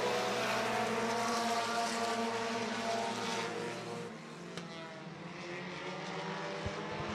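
Race cars run nose to tail around a track in a heat, a loud sustained engine drone with shifting pitch as the pack passes, then easing to a lower steady roar; no talk.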